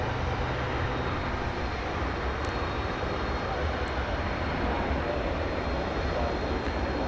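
A Cessna 208B Grand Caravan small cargo turboprop at DFW Airport gives a steady, broadband engine roar that holds at an even level throughout, with no voices over it.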